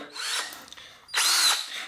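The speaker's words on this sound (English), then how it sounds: "I'm going to use a very sharp drill and just carefully kind of drill down the middle through it." Sharp drill bit boring into the steel cotter pin of a vintage Peugeot bike's bottom bracket: two close, loud whining bursts of a power drill, separated by a short pause, with no talking.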